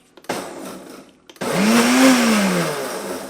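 A Ninja Foodi blender pulsing a raspberry lemonade mixture gives one short burst, a brief pause, then a loud, sustained whirring blend whose motor pitch rises and then eases off, close by and with no talk over it.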